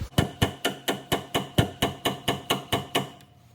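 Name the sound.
hammering a punch and chisel on axle part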